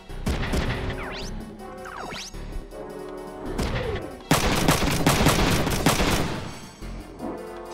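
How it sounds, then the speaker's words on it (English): A grenade goes off in the Front Mission 3 tactical mech game, a loud crash and blast among several sharp impacts and gunfire-like bursts, with no voices. "Here comes a grenade."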